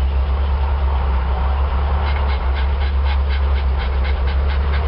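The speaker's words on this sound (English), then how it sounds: "One stupid dog panting because he's too stupid to sit down." A dog pants steadily and rhythmically up close, quick repeated breaths over a loud constant low rumble.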